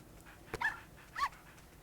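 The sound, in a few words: dog panting and whimpering in the video game Nintendogs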